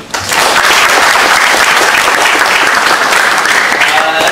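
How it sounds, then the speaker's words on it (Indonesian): Loud, dense clapping from a forum audience in Bandung fills the hall and holds steady without a break. "Tepuk tangan juga buat kami."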